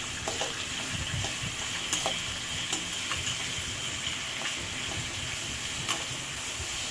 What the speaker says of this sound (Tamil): இப்போது மீடியம் சைஸ் 2 ஆனியன் எடுத்து அதை இடித்து வச்சுருக்கேன், அதை சேர்த்துக்கலாம்.